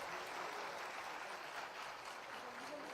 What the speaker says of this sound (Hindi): तालियों की गूंज मिलती रहनी चाहिए।